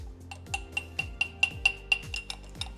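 A spoon stirs chia seeds and cocoa powder inside a small one-cup glass mason jar, making a steady rhythm of bright clinks against the glass, about four per second, close and clear with no talking.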